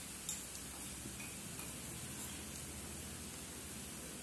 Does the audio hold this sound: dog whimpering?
no